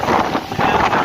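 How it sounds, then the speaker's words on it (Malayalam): Strong wind on a hilltop in Darjeeling roars loudly across the microphone in heavy, buffeting gusts, with a brief dip before it surges again. "നല്ല കാറ്റുണ്ട്, ഭയങ്കര കാറ്റ്."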